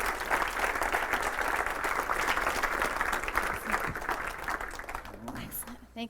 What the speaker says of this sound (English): give her a big round of applause and welcome her up here